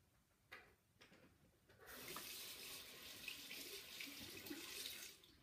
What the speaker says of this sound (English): I'm gonna wash my hands right here.